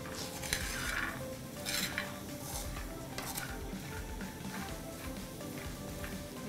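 Groundnuts roasting in a dry pan while being spread and stirred, making a dense continuous rattling scrape with scattered louder clatters of the spoon against the pan, close and steady throughout.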